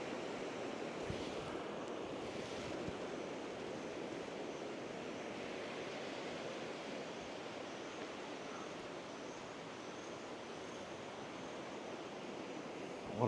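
Waves wash onto a tropical beach at Cape Tribulation in Australia's Daintree, a soft, steady surf hiss with gentle wind, fairly distant and unbroken throughout.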